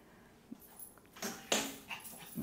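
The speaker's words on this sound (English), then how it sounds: "My dog, Dahlia, she's so energetic" A lively dog whimpers and yips, then lets out sharp barks in short bursts, close by and fairly loud against a quiet background.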